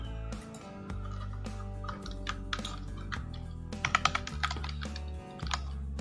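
Quiet typing on a computer keyboard, an irregular run of soft clicking keystrokes over a low steady background hum.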